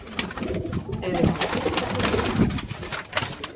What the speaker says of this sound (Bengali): এগুলো ধাড়ি পায়রা